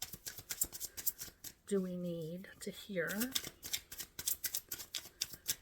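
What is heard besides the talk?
tarot cards being shuffled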